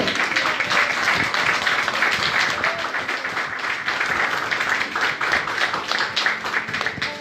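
Church congregation applauding in a Spanish-language service, a continuous crackling spread of many hands clapping at steady volume throughout, with faint voices mixed in.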